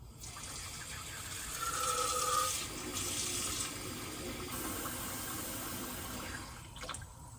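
Water runs steadily from a tap into a pot, a continuous rushing splash that shifts in tone as it fills, ending with a soft clunk.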